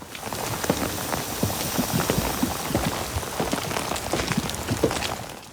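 Steady rain falling in a TV drama scene, dense patter of drops on surfaces filling the whole stretch at an even, moderate level with scattered louder splashes, no voices.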